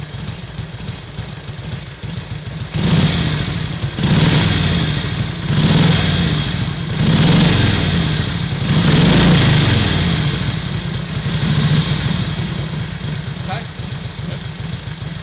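A 1941 Harley-Davidson WLC motorcycle engine idles nearby with a lumpy, uneven rhythm, rising in level after a couple of seconds and chugging on steadily under occasional background noise.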